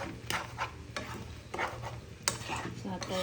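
A kalakand mixture with sugar is stirred in a pan, each pass giving a close scraping swish in an uneven rhythm of about six strokes. A soft sizzle runs underneath and a brief voice is heard.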